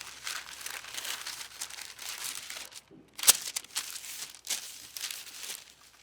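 A knife cuts a paper tuning frame for archery in half, giving soft, close, uneven crinkling and tearing rustles with a sharp tick in the middle.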